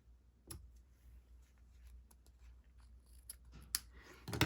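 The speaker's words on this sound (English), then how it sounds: "I'm just gonna cut it maybe right here." Scissors snip through ribbon during a paper-craft kit assembly, giving a few soft, close, separate cuts: one early, then a quick cluster near the end. The cuts sound faint and crisp against a quiet room, with no one talking.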